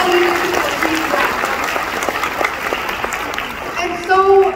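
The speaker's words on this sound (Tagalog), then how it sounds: "Isang malaking malakas na palakpak to all the leaders who achieve that." A seated audience at a health talk applauds for the leaders being honored, a steady, fairly loud burst of clapping that fades slightly before a voice comes in at the end.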